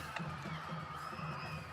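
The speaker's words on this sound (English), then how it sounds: "Crowd going crazy." Football game crowd cheering, a steady wash of distant roaring voices and shouts playing back from a video at low level, continuous for a couple of seconds.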